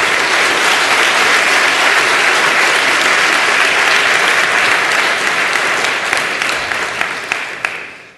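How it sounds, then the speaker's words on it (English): Lecture-hall audience applause at CERN, a loud, dense wash of many hands that holds steady for several seconds before thinning and fading away at the end. "I always worry when people clap before you've said anything."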